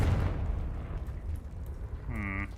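Confringo fire spell cast in Hogwarts Legacy: a rumbling blast fading out over about two seconds, followed by a short bright tonal chime.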